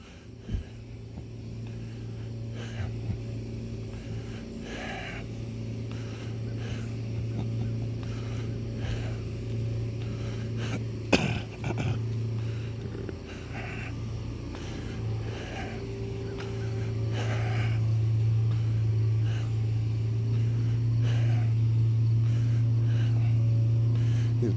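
A platform lift vehicle creeping slowly along a street and backing up, its engine idling as a steady low drone that grows louder toward the end, with faint street noise and a sharp knock midway.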